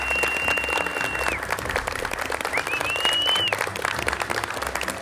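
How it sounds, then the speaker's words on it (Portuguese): Studio audience applauding on the set of MasterChef Brasil, a steady, dense clapping that fills the whole stretch at even loudness, with a sustained tone sounding over it. "Palmas para a Janaína!"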